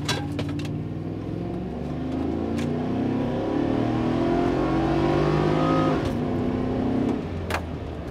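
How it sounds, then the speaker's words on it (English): A Chevrolet Trailblazer SS accelerates hard from a power-braked launch, its engine note climbing loudly through rising revs with a shift near the end, heard from inside the vehicle. "I'm going to kind of power brake it a little bit now, bring the RPM up, see if that does anything."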